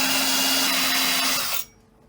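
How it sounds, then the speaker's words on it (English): A power drill countersinks screw holes during the build of a wooden cat run, whining steadily up close for about a second and a half before cutting off abruptly. "Anyway, back to countersinking."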